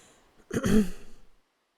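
A single close throat clearing, a short rough rasp with a guttural rumble lasting under a second, then silence.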